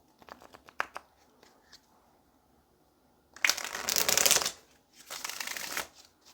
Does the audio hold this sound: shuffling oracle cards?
yes